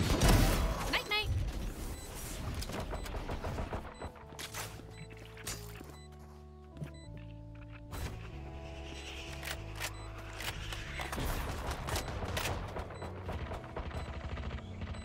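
Gunfire in a tactical shooter video game during a spike-planted round, bursts of rapid shots and mechanical clatter over in-game music tones, with a player talking over the action.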